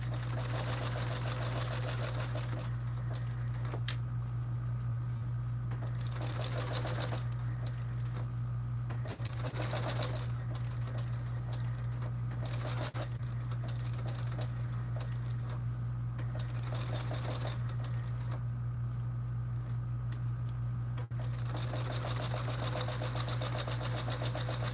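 A sewing machine top stitches a Swoon Maisie bag in bursts of rapid mechanical whirring and needle chatter over a steady low hum, pausing and restarting several times.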